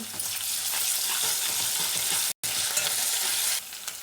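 Onions frying with ginger garlic paste in a pan while making a spinach curry, a loud, steady sizzle close by with stirring scrapes and one very brief dropout, without talk.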